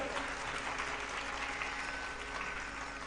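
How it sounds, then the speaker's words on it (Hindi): Faint, thin applause from a seated audience at a spiritual discourse on Hanuman: a subdued, even patter of clapping at low volume, steady for a few seconds with no talking over it. "तालियां बड़ी कमजोर है।"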